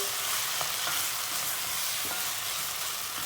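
Tomato paste, tomatoes and peppers fry in a pot with a dense, steady sizzle, while a spoon stirs them in a few soft scraping strokes.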